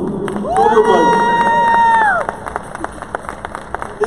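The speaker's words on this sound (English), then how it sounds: "a round of applause for our Best in Show winners" Audience cheering and applauding at an indoor dog show as Best in Show winners are announced. Loud shouts and whistles rise together, then settle into scattered clapping. A voice over the loudspeaker talks alongside.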